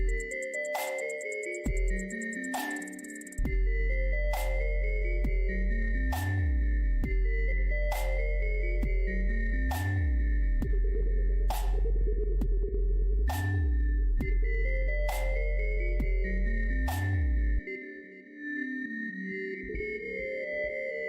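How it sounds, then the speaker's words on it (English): Bright, bell-like vibraphone-style melody ringing over a looping beat, with regular deep kicks and sparkling high percussion, steady and prominent throughout with a brief drop near the end; no voices. "Yes, it sounds like a vibraphone."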